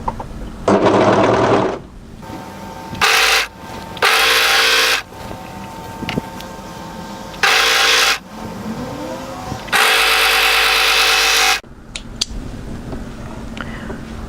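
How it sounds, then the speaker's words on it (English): Overlocker stitching fabric pieces of a sleeveless cardigan in repeated bursts of fast whirring, each lasting a second or two, separated by quiet handling sounds and brief pauses. "I'm going to try and start my overlocking exactly on that notch position."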